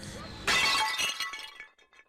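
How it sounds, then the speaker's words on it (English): A car crash in the N64 racing game Cruis'n Exotica, a sudden loud smash with shattering debris that rings out and fades over about a second and a half. "Your usual array of car crashing sounds"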